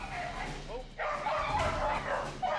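A dog in a muzzle and on a leash growls and whimpers in short, tense bursts during a behaviour assessment, close by and partly overlapped by a person talking.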